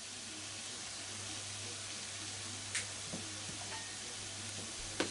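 Carrots for ninjin shirishiri fry quietly in a pan, giving a faint, continuous sizzle, with a few soft clicks of stirring scattered through.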